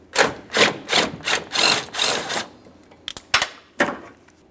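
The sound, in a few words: removing 10mm mounting bolt from Ford F-150 antenna base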